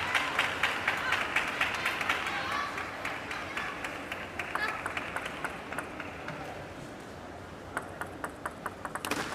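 Table tennis crowd at a 2019 China Open quarterfinal murmuring and clapping in a large arena, with sharp ball pings and scattered claps punctuating a steady background hum under commentary.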